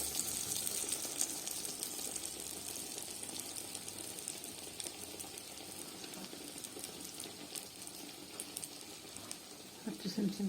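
Falafel sizzles in a pan of hot oil, a steady crackling hiss with small pops and faint clinks of handling, heard close throughout.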